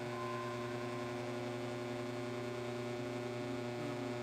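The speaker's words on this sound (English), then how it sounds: "We'll vacuum the system down first." A vacuum pump pulls down the air-conditioning system on a Mustang GT, giving a steady, loud mechanical hum with constant tonal drone and no talk.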